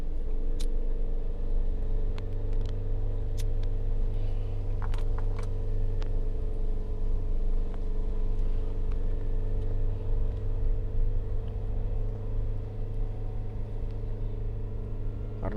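A car engine pulls uphill in first gear at night, a steady low rumbling drone with a strained, even tone, close inside the cabin with faint ticks and rattles over it.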